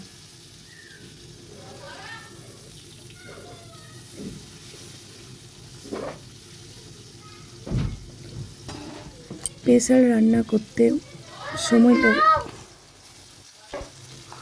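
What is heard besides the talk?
potatoes frying in a pan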